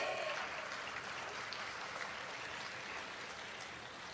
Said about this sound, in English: Audience, please clap for our gold medalists.